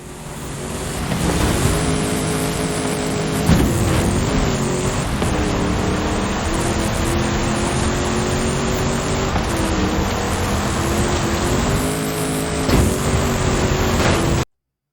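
A Ford F450 pickup truck in the Forza Horizon 5 racing game roars across a cross-country course, its engine droning loud and continuous with shifting revs for the whole stretch before cutting off abruptly.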